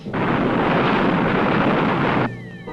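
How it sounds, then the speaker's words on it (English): Retro rockets firing as a spacecraft lands in a 1965 science-fiction film, a loud, steady roaring blast that holds for about two seconds and then cuts off abruptly. "Fire retro rockets."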